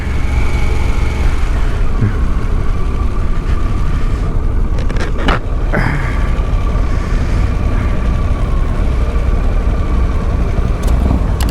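A 2023 Harley-Davidson Pan America motorcycle pulling away in first gear, steady engine drone with wind rush throughout, loud and close, a couple of brief clicks partway through.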